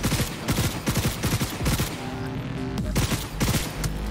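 Rapid bursts of video game gunfire ring out in Cyberpunk 2077, with a series of sharp shots in quick clusters separated by brief pauses and a faint lingering tone between volleys.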